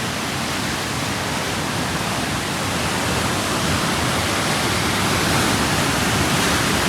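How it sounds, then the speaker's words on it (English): Lake Superior waves after a storm make a loud, continuous broadband roar and wash close by, steady and unbroken with no voices. "You also have to watch the waves really close here."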